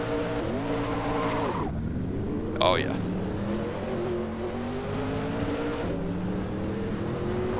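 The late-1980s Mercedes Sauber C9 Group C race car in the racing game Assetto Corsa revs hard, climbing and dropping through several gear changes with a brief squeal, while someone speaks briefly over it.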